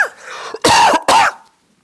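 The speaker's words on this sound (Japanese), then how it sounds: "ちょっと病み上がりで咳がちょっとまだ出てしまうんだけど" Two hard, harsh coughs close together, loud and near, after a brief throat sound, then silence, from a speaker still recovering from illness.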